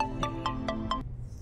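An incoming call sets off a phone ringtone in a domestic scene of a TV drama: four evenly spaced electronic chimes ring clearly, each a bright tonal burst, then cut off abruptly into quiet room tone.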